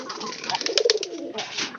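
Pigeon cooing close by, a rolling burst of low throaty coos in the middle with softer murmurs before and after.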